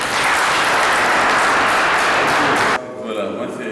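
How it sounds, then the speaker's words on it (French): Conference audience applauding a delegate who has been asked to stand, dense loud clapping that cuts off abruptly near the end, leaving quieter room sound. "Nous l'applaudissons."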